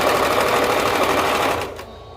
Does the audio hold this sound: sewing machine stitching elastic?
yes